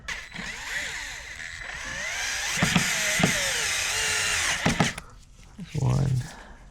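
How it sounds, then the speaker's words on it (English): A small power screwdriver or drill whirs in changing-pitch runs while screws are tightened on a 2000-2002 Toyota Corolla mass air flow sensor, with a few clicks and someone speaking near the end. "all we're going to do is just tighten it with the screws"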